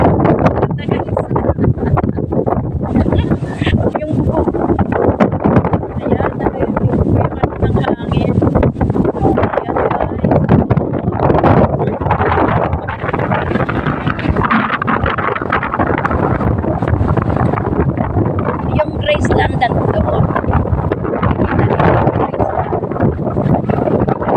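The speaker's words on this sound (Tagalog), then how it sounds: "Kasi ang lakas guys ng hangin" Strong wind roars steadily into the microphone, buffeting loudly throughout, with a voice speaking now and then under the gusts.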